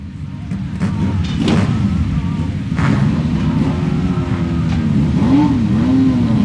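Great Lakes Legends race cars at Grand Bend Speedway roll back onto the short track, engines droning and revving at moderate distance with rising and falling pitch, with some voices in the background.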